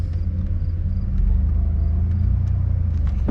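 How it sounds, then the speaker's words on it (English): A 2000 Chevy Blazer engine rumbles steadily at idle as the SUV is backed up in reverse, a close, low continuous drone with no speech. "I'm gonna back it up a little bit here."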